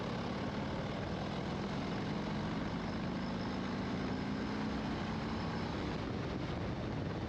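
A 2023 Harley-Davidson Low Rider ST runs on a dyno in fourth gear at about 1,500 rpm, a quiet, even, continuous low drone that holds steady with no other sound.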